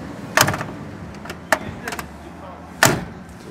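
Car doors on a 1966 Pontiac GTO Tri Power convertible open and shut, giving three sharp thuds and latch clicks with a fainter click between them, close by against a quiet background.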